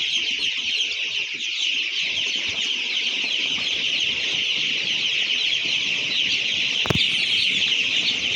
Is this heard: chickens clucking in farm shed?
yes